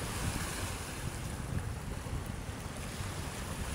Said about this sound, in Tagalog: Ayan, lumalakas na yung ating hangin.